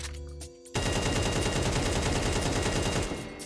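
An AK rifle sprays a continuous burst of rapid automatic fire in Counter-Strike 2, loud and close, after a short quieter lead-in.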